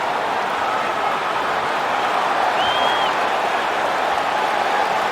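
Crowd applause and cheering in the UFC 3 video game after a submission win in a super fight, a dense, steady wash of clapping and crowd noise held at even loudness throughout.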